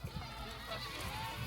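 Goats on a farm in Uganda bleat faintly across a steady wash of outdoor noise, with faint voices nearby.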